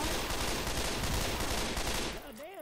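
Dense, loud gunfire in the zombie shooter Left 4 Dead 2, a continuous barrage of rapid shots that cuts off abruptly near the end.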